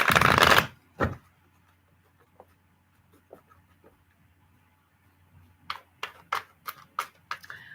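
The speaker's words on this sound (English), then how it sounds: "Let's give it a good shuffle." Cards being shuffled: a loud riffle at the start, then quiet taps and a rapid series of crisp card flicks near the end, with no voices.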